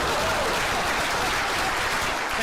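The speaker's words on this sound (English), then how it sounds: "Please clap." An audience breaks into applause at a political speech, a steady, loud, dense wash of clapping that holds evenly throughout with no voices standing out.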